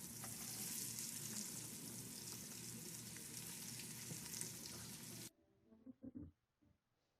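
Vegetables sizzle steadily in butter and meat drippings in a darkened pan, a loud, continuous frying hiss for several seconds that cuts off suddenly, followed by faint clinks and handling noises.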